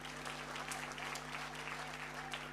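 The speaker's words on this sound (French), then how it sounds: "Applaudissez pour nous." An audience in a hall applauds a couple celebrating, a dense wash of clapping over a steady electrical hum, moderately faint and continuous for a couple of seconds.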